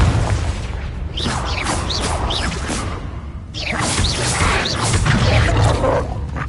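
The Confringo blast spell goes off in Hogwarts Legacy as a loud, sustained rumble of fiery booms layered with swooshing bursts, dense and continuous with no voices over it.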